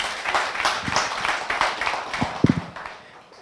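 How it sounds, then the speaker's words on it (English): Audience at a banking and finance conference applauding, a dense patter of claps heard up close and steady, with a few sharper louder claps standing out near the end. "So please, a round of applause for the banking system."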